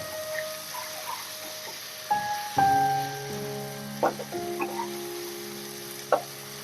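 Home-ground sesame paste stirred and frying in hot oil for a millmaker masala curry, a steady low sizzle with scraping spoon strokes, a few sharper clinks and scrapes standing out near the end.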